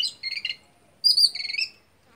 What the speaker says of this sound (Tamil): அந்த குருவியோட வாய்ஸ் வந்து பார்த்திங்கன்னா ஃப்ரெண்ட்ஸ் இதுதான்